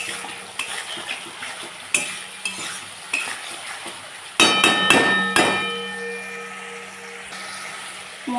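Spice paste with green chillies and salt frying in oil for a vegetarian taro-leaf dish, a continuous close sizzle broken by repeated scraping and clanking of a spoon against the pan.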